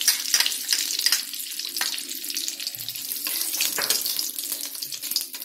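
Ghee, about 100 grams, melting and sizzling in a hot pan, a steady close hiss with faint clinks and scraping throughout.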